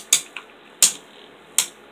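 Beyblade Burst tops Spiral Treptune and Strike Genesis Valtryek clash in a plastic stadium, giving three sharp, bright metallic clacks about three-quarters of a second apart, close and loud, with a fainter tick between the first two.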